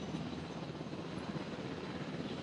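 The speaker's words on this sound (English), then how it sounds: "This helicopter is doing basically nothing, it seems like." Ranger helicopter in Jurassic World Evolution, a steady faint rotor whir droning evenly without pause.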